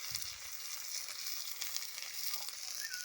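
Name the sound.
potatoes frying in a pan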